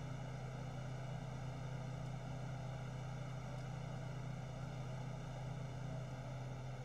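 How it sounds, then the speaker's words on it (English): Simulated Beechcraft C90 King Air turboprop in X-Plane 11 with propeller levers pushed forward; a steady, loud engine and propeller drone with a strong low hum runs unbroken throughout, with no talk. "here come the props forward."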